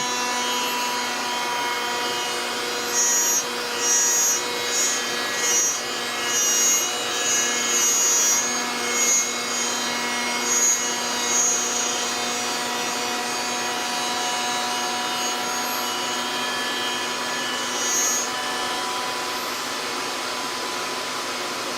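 A Shapeoko 5 Pro CNC router cuts aggressively into wood, a loud continuous whine with steady harmonic tones and faint rasping, pulsing slightly as the bit moves through the workpiece.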